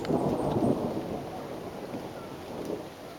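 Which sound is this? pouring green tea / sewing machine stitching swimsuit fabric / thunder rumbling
thunder rumbling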